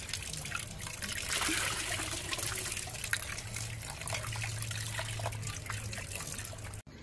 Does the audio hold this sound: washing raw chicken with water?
yes